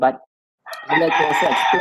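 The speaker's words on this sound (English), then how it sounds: "Oh, I can hear some roosters crowing." A rooster crows loudly and fairly close by, a sustained harmonic call that starts after a brief stretch of speech and a pause, then carries to the end.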